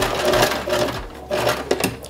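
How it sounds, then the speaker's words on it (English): A domestic sewing machine stitches fabric in a close, steady mechanical whir with rapid needle chatter, pausing briefly about a second in before running again, with no talk. "Now we're just sewing."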